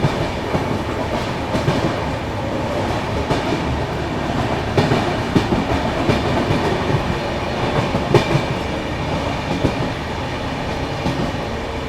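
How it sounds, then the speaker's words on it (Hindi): The diesel-hauled Palace Queen Humsafar Express runs through Dharwad station on the main line without stopping, a continuous close, loud rolling roar with rapid clickety-clack wheel beats over rail joints throughout. "सारे स्टेशन को स्किप करते हुए जाएगी अपनी पैलेस क्वीन हमसफर एक्सप्रेस।"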